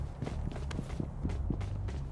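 Footsteps thudding overhead in PUBG Lite, a steady run of soft, muffled impacts heard through a floor above, faint and without talk.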